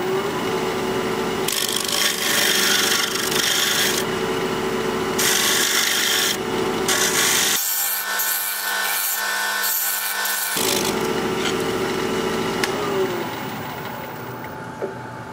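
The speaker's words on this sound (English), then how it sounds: "shear scraping." Steady scraping and rubbing of a shear scraper cutting a Siberian elm bowl spinning on a wood lathe, loud and continuous, with a brief quieter gap mid-way before the rough scraping resumes.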